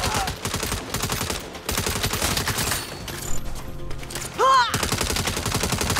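Rapid gunfire in the 2022 Saints Row video game: dense, loud bursts of automatic shots fire almost continuously, broken by a brief lull and a short whooshing game effect.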